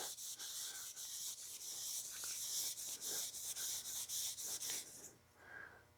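A hot rod headlight is sanded by hand with a sanding pad, a close, steady rhythmic scrubbing of quick back-and-forth strokes that stops near the end.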